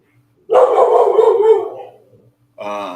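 A dog barks close and loud: one long, drawn-out bark that trails off like a howl, then a short, sharp second bark after a brief pause.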